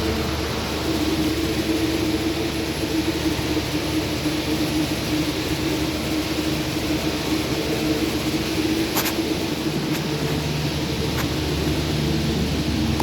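Generator car of the KA Kamandaka economy train running, a steady loud drone with a low engine hum and broadband hiss throughout, with a few faint clicks near the end.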